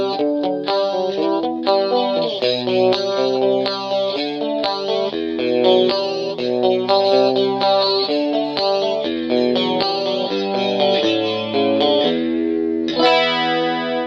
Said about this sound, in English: Moving on to Clean 1, this is going to be more of like an amp simulation type of clean, a little more mid-range focused.